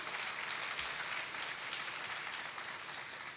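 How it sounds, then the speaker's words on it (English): An audience at a university research conference awards session applauds in a steady, dense wash of clapping that stays even and moderately distant for a few seconds before tapering at the end. "I think we should give a round of applause to God."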